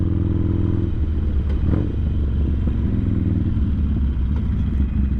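A motorcycle fitted with 12.5-inch Drag adjustable shocks rides along the road, its engine droning steadily and close up under heavy wind rush, with no talking.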